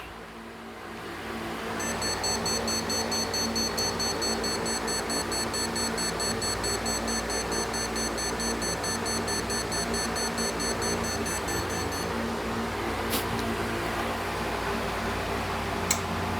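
A desktop computer beeps repeatedly at startup, a thin high electronic tone pulsing in steady rapid succession for about ten seconds over a constant loud fan whir, with a couple of faint clicks afterward.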